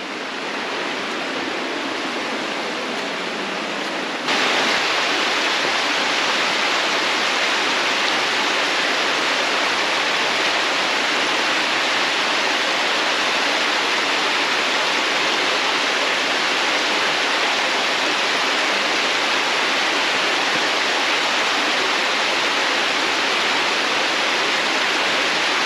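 A creek in Surprise Canyon rushes steadily, a dense, loud wash of flowing water that grows louder after a few seconds and continues unbroken, with no voices.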